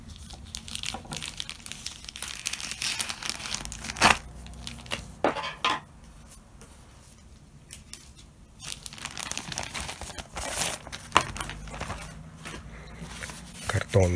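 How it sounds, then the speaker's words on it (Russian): A cardboard envelope holding banknotes is torn open, giving repeated crinkling, ripping and crunching bursts up close, with pauses between handling noises. "давайте вскроем это письмо и посмотрим,"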